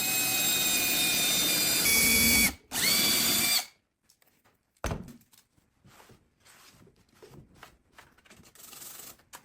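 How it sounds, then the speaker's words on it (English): A power drill whines loudly for a few seconds while drilling a hole in a painted wooden nightstand, pauses briefly, revs again, then stops; a thunk and quieter handling clatter follow. "mark the spot with a punch so the drill bit doesn't wander, and then drill the hole"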